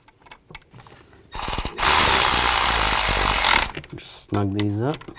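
A ratchet clicks steadily as ignition coil bolts are run down on a 2000-2006 Chevy Tahoe, a dense, loud burst of ratcheting for about two seconds, preceded and followed by quieter handling noises and a brief voice.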